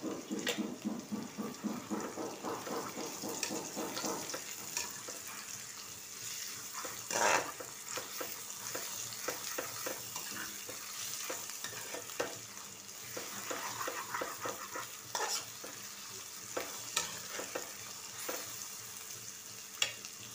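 Steady oil sizzle and crackle of ginger garlic paste frying in a pan, with occasional stirring scrapes and clinks, quiet and close, no talking.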